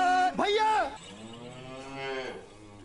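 A buffalo lets out a loud, close moo with a rising and falling pitch, then a long, softer lowing call that trails off.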